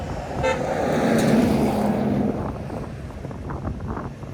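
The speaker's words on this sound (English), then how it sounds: "everybody's driving past you right now" Cars pass on a busy road at night, giving a loud, rising and fading roar of traffic with a short tone like a horn near the start and rough wind noise on the microphone.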